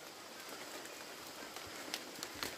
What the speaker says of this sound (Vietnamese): Mưa khá là to.